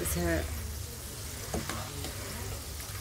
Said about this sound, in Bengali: দেখেন আমার এগুলাও ভাজা হয়ে গেছে, ফ্রেঞ্চ ফ্রাই